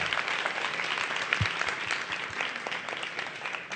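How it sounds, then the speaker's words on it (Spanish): An audience applauds warmly for a guest being welcomed at a caricature event, a steady, dense burst of clapping lasting a few seconds. "a quien pido un caluroso aplauso, por favor"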